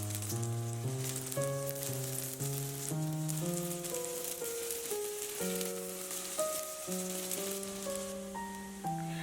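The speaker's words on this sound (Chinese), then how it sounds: "预热完成之后，我们放入小饼子" Small dough cakes fry in oil in a preheated electric pan, a steady soft sizzle running beneath louder background music.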